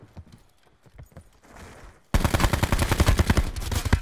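Rapid gunfire erupts in Call of Duty Black Ops 4 Blackout, a loud, sustained burst of shots after quieter scattered sounds.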